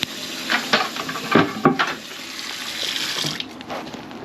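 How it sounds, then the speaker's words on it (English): Water draining from a clogged kitchen sink, a close gurgling and splashing that comes in uneven bursts before settling into a steady trickling wash, with no voices. "It's draining, I know it is."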